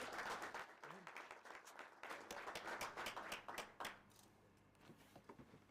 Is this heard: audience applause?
yes